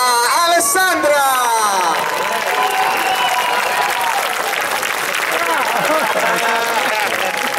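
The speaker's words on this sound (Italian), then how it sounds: "Signore e signori, un applauso a Alessandra!" Audience applause at a local variety show evening as a new showgirl is introduced, loud sustained clapping from the crowd over several seconds, with a voice and music briefly heard at the start.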